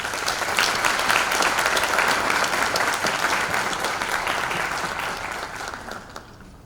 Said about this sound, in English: I'm going to ask you to give Mrs. Jacqueline Cook Lloyd a rounding applause